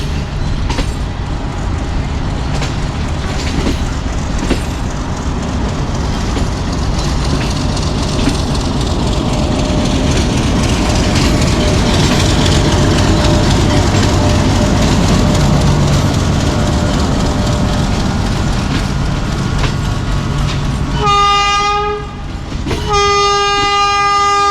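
Loud, steady rumble and clatter of the Awam Express rolling along the tracks into Rawalpindi railway station, ending with two strong horn blasts near the close.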